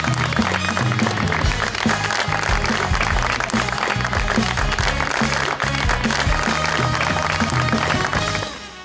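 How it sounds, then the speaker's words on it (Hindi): A studio audience applauds to welcome the guest Naveed Rasheed, known as Tony, onto a Pakistani talk show; dense, sustained clapping fills the room at steady loudness, then tapers off at the very end. "बहुत सारी तालियों में वेलकम कीजिएगा जनाब नवेद रशीद साहब"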